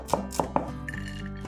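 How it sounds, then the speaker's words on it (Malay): Knife thinly slicing garlic and shallots: three sharp close taps against a cutting board in quick succession, followed by a quieter pause. "Iris nipis 5 ulas bawang putih, 5 biji bawang merah kecil"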